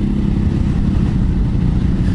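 A 2016 Ducati Hypermotard 939 engine running steadily while riding on a highway at about 80 km/h, a continuous low, rumbling drone with wind noise, close and fairly loud, no talking.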